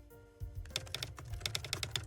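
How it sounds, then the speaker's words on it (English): Quiet typing on a computer keyboard in the game Belle Automata, soft and steady keystrokes in a quick run after a brief low hum, with no talk. "I hear the quiet sound of typing"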